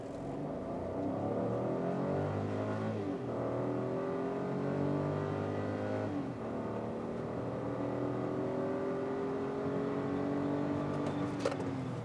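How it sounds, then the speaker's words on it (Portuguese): A Hyundai Creta 1.0 turbo running on ethanol launches from a standstill and accelerates hard toward 100 km/h, its engine rising steadily in pitch through several gear changes, loud and close with no talking. "Estolando o carro e saindo."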